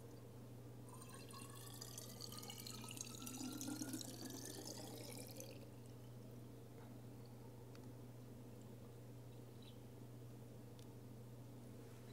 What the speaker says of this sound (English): So you take your bottle that's been washed and thoroughly rinsed, set it at the bottom of the spigot, and you turn the spigot on.